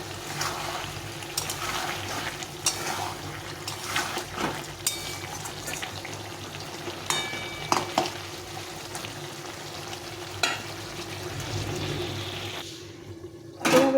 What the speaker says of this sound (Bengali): এখন আমি আলুগুলো দিয়ে দিই, দিয়ে ভালো করে কষিয়ে নিতে হবে